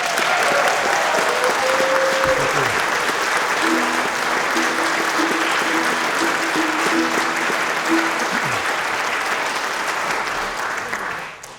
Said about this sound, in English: Big hand of applause for the BMC,